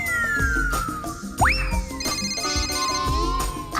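A mobile phone ringtone plays loudly and close in a domestic scene, a bright electronic melody with sliding tones and repeating chimed notes over a thumping beat.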